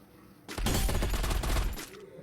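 A burst of rapid gunfire from the Free Fire video game erupts close and loud for over a second, then cuts off, with quiet game ambience before and after.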